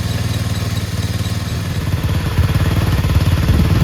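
A Chinese 125cc ATV quad engine runs close by, with a steady rapid chugging beat that grows slightly louder and rougher toward the end, and no talk over it.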